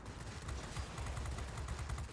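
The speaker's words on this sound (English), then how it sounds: "These are the 23mm cannons that are on" Rapid cannon fire from the 23mm guns of an XP-36F in World of Warplanes, a steady stream of sharp, closely spaced shots running throughout at moderate loudness, with no voices.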